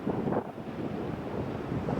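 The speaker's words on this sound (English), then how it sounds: "We've got a pretty good wind coming up here." Strong wind blows across a seaside boardwalk while someone bikes along it, buffeting the microphone with a constant low roar that surges and eases.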